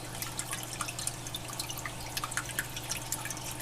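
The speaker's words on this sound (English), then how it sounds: "homemade waterfall." Water from a homemade waterfall trickles and drips steadily into a baby red-eared slider turtle tank, a soft continuous splashing with scattered brighter droplets over a low pump hum, no voices.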